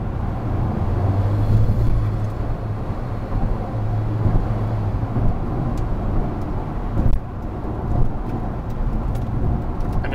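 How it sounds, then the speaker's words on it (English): Alfa Romeo 4C Spider Final Edition driving over badly rutted road, a steady loud engine and road rumble with low drone throughout and a couple of sharper jolts from the ruts near the end. "we're hitting some pretty bad ruts in the road"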